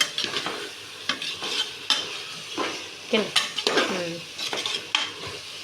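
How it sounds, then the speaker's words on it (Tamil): Soy chunks (meal maker) being stirred into masala, tomato, onion and vegetables in a pan for veg biryani, with repeated scraping and clattering strokes over a soft sizzle, close and fairly loud. "இப்போ நம்ம நல்லா கிண்டிக்கலாம்"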